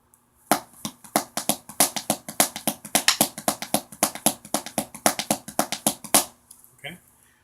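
Hand drums play the Mama Papa beat, a Latin-style pattern of crisp, close strokes in a steady, even rhythm lasting about six seconds before a short pause.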